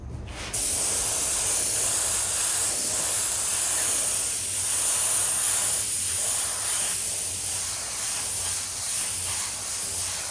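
An airbrush sprays paint onto a tank in a custom paint job, starting abruptly and then hissing continuously and close up, with faint pulses in the airflow as color is layered.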